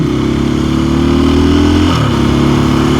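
A motorcycle engine revs hard and steadily for a wheelie on a ride to work, loud and close, its pitch rising then dipping briefly before holding high again.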